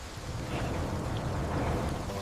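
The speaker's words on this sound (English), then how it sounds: "The rain is coming fast!" Steady rainfall, a soft continuous hiss of drops with a faint low rumble underneath, even and moderately quiet throughout, with no voices.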